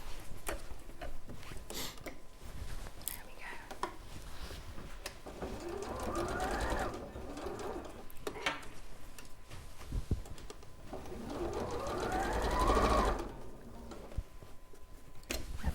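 A sewing machine stitches around the top of a spring sheep sewing project. Runs of rapid, steady stitching come and go across the clip, fairly close and loud at times, with quieter pauses between them.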